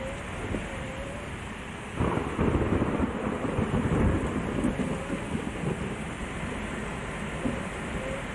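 Game thunder rumbling in Euro Truck Simulator 2 during a truck drive, a low sustained roll swelling suddenly at about two seconds and continuing as a broad, steady rumble with rain-like hiss throughout.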